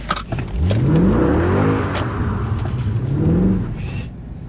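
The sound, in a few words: sports car engine revving at steady RPM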